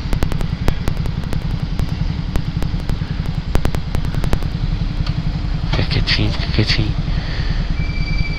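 A motorcycle engine idles with a steady, close, low rumble and faint clicks before stalling, while a voice briefly speaks over it.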